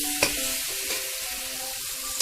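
Vegetables coated in turmeric and chili powder stirred in a frying pan, giving a steady soft sizzle with a couple of sharp scrape clicks from the spatula.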